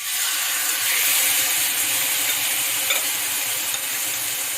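Shrimps go into a hot pan with a loud, steady sizzle and hiss of frying oil for a keto shrimp and garlic dish. The sound is close, with faint pops and spatters and no talking.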